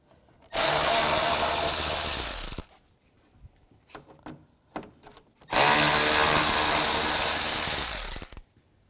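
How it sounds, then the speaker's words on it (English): A power tool fitted with a T25 socket whirs in two loud bursts of about two seconds each, backing screws out of the top of a 2006–10 Volkswagen Jetta lower grille, with faint clicks and handling between them. "Take these screws out on top, use a T25 socket."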